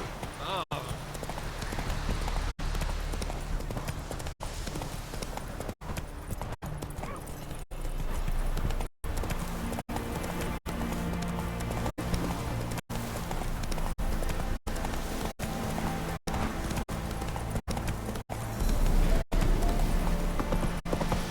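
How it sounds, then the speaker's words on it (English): Horse hooves clip-clop at a steady gallop in The Witcher 3, a continuous rhythmic beat running close and loud beneath game dialogue and background music. "Whoa there, Roach!"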